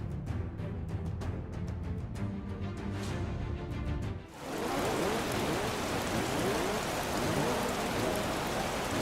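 Rain falls in the racing video game Project Cars, a dense steady hiss of drops on the surface that takes over completely after an earlier stretch of engine and track noise, loud and continuous.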